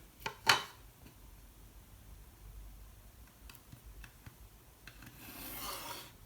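A pencil drawing a straight line on paper to join a point for an angle bisector in a geometry construction, a soft close scratchy rubbing with a few brief ticks and a sharper scrape near the start.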